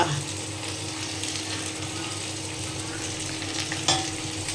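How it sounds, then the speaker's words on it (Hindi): Salt, chilli and turmeric fry in a hot pan, a steady close sizzle running throughout with light scraping from stirring and a brief clatter near the end. "तो इसमें नमक और मिर्च मसाला जो है इसको डाल करके फ्राई कर लेते हैं"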